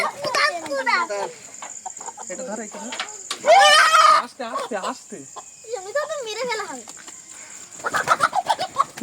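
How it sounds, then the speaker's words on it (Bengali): A backyard chicken clucks and squawks close by in repeated rising calls, with a loud burst of flapping or squawking midway and a steady insect buzz throughout. "এই মুরগিটা অনেক ভিতরে ঢুকে বসে আছে"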